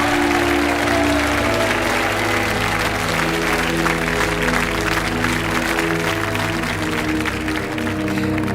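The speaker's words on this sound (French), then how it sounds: "On vous laisse repartir par là et on vous applaudit bien fort." A TV game show studio audience applauds loudly and continuously, dense clapping filling the space from start to finish, with a steady tonal hum underneath.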